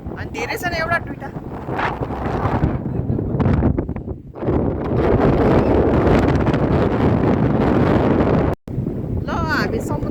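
Strong wind at the seaside in Knokke, Belgium, loud gusty buffeting against the microphone that surges and drops out briefly, with a few short bursts of voices in between.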